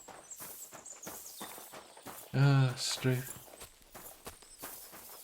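Horse hooves clip-clop steadily in Kingdom Come: Deliverance 2, a walking gait of moderate loudness running throughout, briefly covered by a loud voiced burst midway while someone talks.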